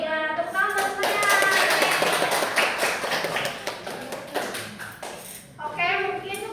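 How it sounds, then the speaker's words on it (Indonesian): Students in an Indonesian classroom clap their hands together in a quick, lively burst during a social studies lesson, the clapping close and busy with children's voices chattering over and around it. "tepuk tangan buat semuanya"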